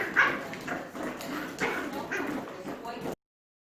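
Young Goldendoodle puppies tussle in play, letting out short growls and yips in quick bursts at close range, with a person talking faintly in the background before the sound cuts off.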